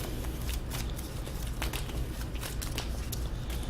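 A deck of Arkham Horror card game cards being shuffled up close, a steady papery riffling and crackling that carries through without pause, with no voices.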